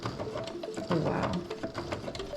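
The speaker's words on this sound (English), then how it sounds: "Let's get the hard part done first, which is sewing this into this cardboard texture fabric." Sewing machine stitching fabric onto a cardboard-textured visor, a steady close mechanical whirr and clatter of the needle running continuously, with a brief louder burst midway and no talking.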